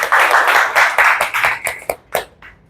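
Loud close clapping from a church congregation, a few seconds of rhythmic hand claps that thin out and stop into a couple of last scattered claps.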